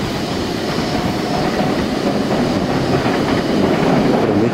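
A local train bound for Sendai pulling away from a station in Yamagata, heard as a continuous low rumble with faint rail clatter that stays steady and close, with no talk.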